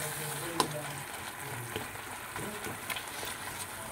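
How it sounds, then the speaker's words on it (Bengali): Fish in a tomato masala fries in a pan with a steady, quiet sizzle and a few soft clinks and scrapes; a faint voice is briefly heard underneath. "এবার আমি এগুলোকে আরও কিছুক্ষণ ফ্রাই করে নেব"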